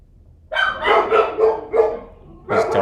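Dogs barking nearby in a home, a loud burst of several sharp barks in quick succession, a pause, then another bark, with no talking over them.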